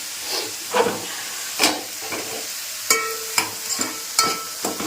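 Chicken pieces frying in a home kitchen pan, a steady sizzling hiss broken by several sharp spattering bursts and stirring scrapes, close and moderately loud, with no talking.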